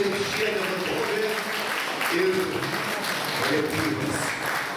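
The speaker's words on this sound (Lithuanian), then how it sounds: "Plojimais Lidija Rimšienė vadovė ir kolektyvas." An audience applauds a senior folk dance group at a folk dance festival in Skuodas, a steady dense clapping across the whole stretch with a voice speaking over it.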